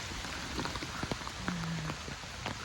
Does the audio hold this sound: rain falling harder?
yes